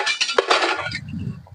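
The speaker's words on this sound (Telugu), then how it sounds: "బియ్యం కడుగుతున్నారండి" Rice being washed in a metal pot gives quick clinks and scraping knocks of grains against the vessel, followed by a brief low swishing of water, close and short.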